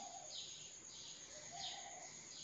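Birds singing in the early morning, faint and distant, with a few soft chirps and calls repeating over a quiet background hum.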